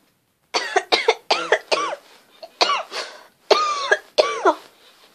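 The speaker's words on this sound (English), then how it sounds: "After another coughing fit" A person coughs repeatedly in a fit of about eight harsh, wet bursts, close up, with brief gaps between coughs and no talk.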